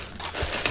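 Foam packaging crinkles and rustles briefly as it is pulled away from an electric skateboard, a short, soft crunching close by.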